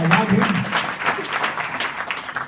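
Students clapping together in a school hall, a loud burst of hand claps that pulses unevenly and slowly thins, with a voice briefly heard at the start.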